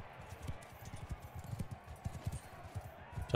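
Horse hooves clip-clopping in the medieval combat game Mount & Blade II: Bannerlord, a rapid irregular run of soft thuds, fairly faint and continuous.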